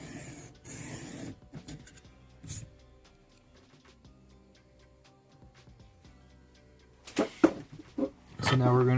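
An MKM TPF knife is drawn across inexpensive diamond sharpening plates. Scattered, faint scraping strokes give way to louder, quicker rasping bursts near the end.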